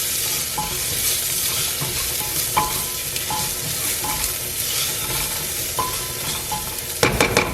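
Onions sautéing in a pan for a toddler's pumpkin sambar, a steady sizzle broken by regular clinks and scrapes of a stirring spoon, with a cluster of sharper knocks near the end.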